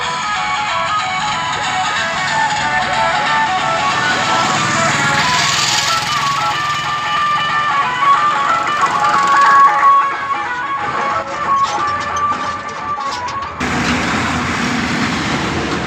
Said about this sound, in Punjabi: ਇਹ ਸਾਡੇ ਟਰੈਕਟਰ ਜਿਹੜੇ ਹਾਲੇ ਵੀ ਪਹੁੰਚੀ ਜਾਂਦੇ ਆ